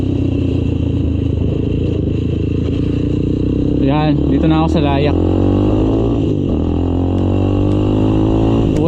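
A heavily loaded motorcycle labours along a street, its engine droning steadily and sounding strained and low on power, while someone talks over it throughout.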